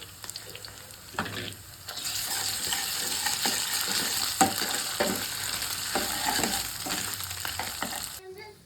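Ginger garlic paste fries in a pan for chicken sherva, giving a steady, close sizzle with repeated scraping stirs over it and no talking.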